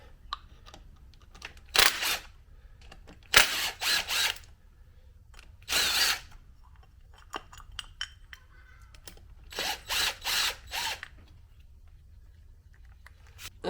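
A power tool runs in short bursts to back out the power valve cover bolts on a KTM 380 EXC engine, giving several loud, close whirring spurts with quiet gaps and small clicks of handling between them.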